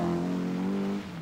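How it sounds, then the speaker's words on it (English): Rover V8 rally car of about 300 horsepower on a 1983 rally stage in the woods, its engine droning loud and steady with a strong low hum before easing slightly near the end. "Through the woods towards us, Derek Warwick. Rover V8, 300 horsepower"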